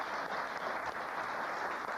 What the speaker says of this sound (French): je vous demande encore d'applaudir Vladimir Latosha